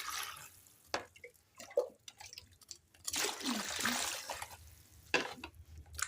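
Water is poured into a cooking pot while a dish is prepared in a home kitchen, with intermittent splashing and trickling bursts near the mic, quiet between pours, and a faint voice speaking.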